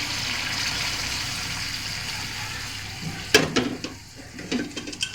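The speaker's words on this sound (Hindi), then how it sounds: "अब इसमें हम पानी डाल देंगे।" Measured water pours into a pot of chana pulao with a soft, steady splash, followed by a few clinks and knocks of cookware settling.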